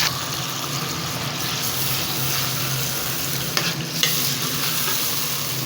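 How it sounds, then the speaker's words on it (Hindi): Chopped tomatoes fry in a kadai for chicken Shinwari karahi, a loud, continuous, close-up sizzle with a couple of sharp spoon knocks near the end. "अब मैं शामिल कर देती हूँ 3-4 अदर कटे हुए टमाटर। इसको भी अच्छी तरह भून लेते हैं।"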